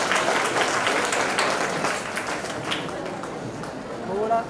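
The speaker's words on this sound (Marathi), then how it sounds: "टाळ्यांचा गजर कमी पडतोय" Audience applause at a 79th anniversary ceremony, steady dense clapping throughout with a brief swell near the end, with background voices mixed in.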